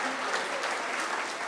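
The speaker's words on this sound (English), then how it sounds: "Bask in the glory of a round of applause." Audience applause at a church Christmas production quiz, steady and dense clapping from a crowd filling the whole short stretch at an even, fairly loud level.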